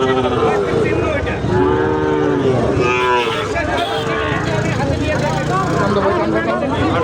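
Sahiwal cattle and calves moo repeatedly at a busy cattle market, several overlapping calls near and loud, with people talking and crowd babble throughout.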